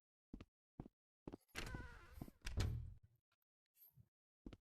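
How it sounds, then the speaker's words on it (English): Several dull thuds and knocks come from a virtual door in The Stanley Parable played in VR, with two longer rumbling slams in the middle, all faint against silence. "you don't close doors on me"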